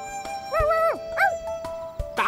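In a period drama scene, a man who lost a drinking game imitates a dog barking with two whiny, yelping barks, close and fairly loud, with brief pauses between them.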